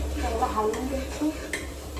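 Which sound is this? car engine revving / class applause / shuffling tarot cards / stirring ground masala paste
stirring ground masala paste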